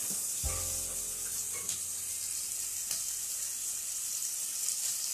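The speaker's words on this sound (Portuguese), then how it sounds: "ele está fritando junto com o alho" Chicken breast tenderloin frying with garlic in a pan, a steady loud sizzle throughout with a brief clatter near the start, and no voices.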